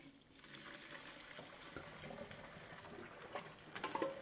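Cooked spaghettini is drained through a strainer. Quiet, trickling and splashing water runs continuously and grows slightly louder and more spattery toward the end.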